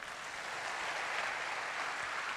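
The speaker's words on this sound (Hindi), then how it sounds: "एक बार तालियां होनी चाहिए यार।" Audience at a talk in India clapping after a speaker's introduction, a steady, fairly faint wash of applause with no voices over it.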